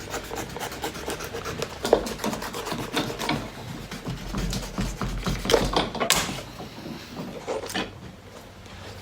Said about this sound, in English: So we're just going to leave that as it is and cut this sole off